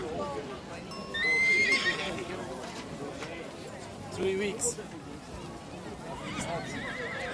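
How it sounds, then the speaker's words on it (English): A horse neighs loudly and clearly in the village of Viscri in Transylvania, Romania, with a second shorter whinny a few seconds later and some clip-clop of hooves. People talk in the background throughout. "A very good horse."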